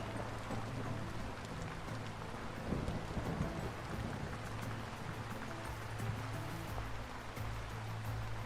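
Thunderstorm rain in the video game Vintage Story: dense, steady hiss of falling rain continues throughout, even and moderately loud, with no speech over it.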